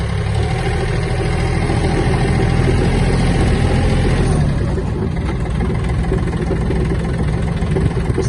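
A Yanmar AF-24 Japanese mini tractor engine runs steadily nearby at a constant idle-like chug, loud and continuous throughout while the machine maneuvers in a small yard.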